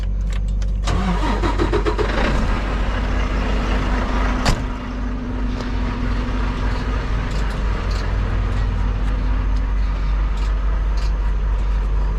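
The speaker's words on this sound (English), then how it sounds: "Let's get this truck started up." A semi truck's engine cranks and fires, settling into a steady loud diesel idle with a low rumble that runs on continuously and close by.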